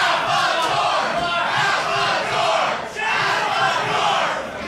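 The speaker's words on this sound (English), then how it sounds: "Chants of cazador, which is a very violent insect" A loud crowd at a Pride stage event chants in unison, a dense roar of many voices that swells and dips in waves and keeps going without pause.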